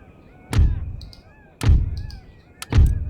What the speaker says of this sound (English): now we need to use our artillery quite effectively